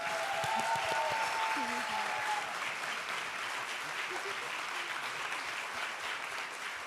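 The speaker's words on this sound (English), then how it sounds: "So if you would allow me to give applause for her as well, it will be perfect." Applause for a film's producer at the Berlinale 2026 independent juries award ceremony, a sustained crowd clapping for several seconds with faint voices underneath.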